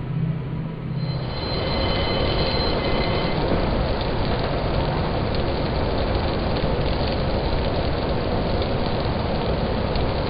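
Locomotives haul a Utah Railway coal train in a train simulator game, a steady, dense rumble and hiss of engines and rolling cars that starts abruptly and holds constant and loud throughout, with no voices.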